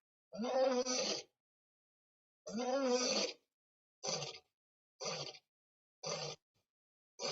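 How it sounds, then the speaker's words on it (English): A recorded roar of an unfamiliar lion plays back in a sequence of bursts: two long, deep, moaning roars followed by four shorter, clipped grunts, spaced by silence and heard clearly alone. "the researchers played an audio recording of an unfamiliar lion's roar"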